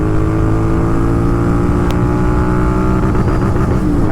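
A Royal Enfield Continental GT 650 twin-cylinder motorcycle accelerates through the gears, a loud, steady, close engine drone that climbs toward the end.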